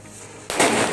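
Cock brand mini bullet firecracker going off, a single sharp bang halfway through followed by a brief crackling, roaring tail.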